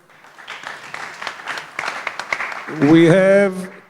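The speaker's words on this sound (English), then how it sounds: "You can give her a round of applause" Applause from a conference audience at a Tel Aviv innovation festival, scattered clapping that builds, with a voice rising over it toward the end.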